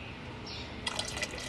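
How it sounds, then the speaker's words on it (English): Liquid from a new bottle being poured into a Toyota Tacoma, a soft run of close trickling and dripping splashes that starts partway through over a quiet background. "Let's see if I can manage to pour this in there."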